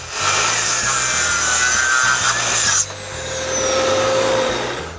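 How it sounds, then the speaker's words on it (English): A circular saw rips through 2x8 wooden rafters during shop ceiling construction, a loud sustained cut with a high whine that drops off near the middle as the blade finishes, then spins down and starts again. "So I cut them with a circular saw."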